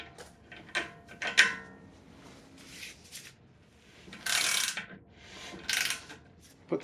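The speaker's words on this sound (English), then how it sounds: "So we got a 19mm and long handle ratchet." A 19mm socket on a long-handled ratchet clicks in short bursts while tightening on a 2008 Acura MDX front axle, quiet close-up ratcheting spaced by pauses and handling noises.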